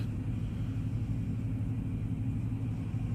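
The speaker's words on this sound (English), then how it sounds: "Heard a motor start up on the other side of that tank." A truck engine runs with a deep, steady rumble, loud and continuous, with no other sounds over it.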